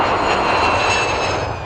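A fixed-wing airplane engine roars steadily at an airport, a loud, continuous drone holding level for under two seconds with no voices over it.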